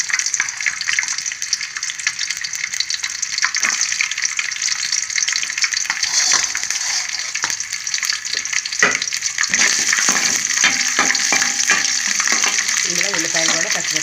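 Onions sizzle in hot oil in a pan for mutton keema fry, a constant bright crackling hiss with occasional stirring clinks and scrapes near the end.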